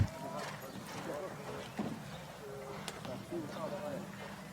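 A horse moves over a show jumping course at the modern pentathlon world championships, its hoof thuds faint and irregular beneath steady commentary talk, with bird calls and crowd ambience in the background.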